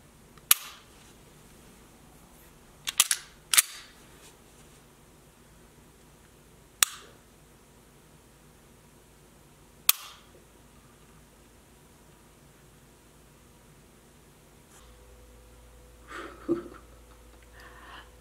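Sig P365 pistol trigger being pulled, a series of sharp dry clicks spaced a few seconds apart, loud and close, with quiet room tone between and a faint rattle near the end.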